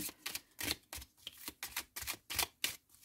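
Tarot cards are dealt and laid down one after another, giving a quick string of close, crisp slaps and flicks on a table. The rhythm is fairly even and there is no talk.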